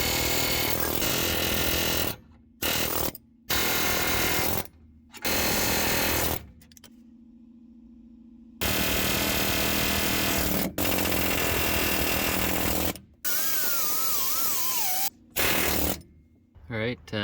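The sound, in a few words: air hammer with chisel attachment knocking out rivets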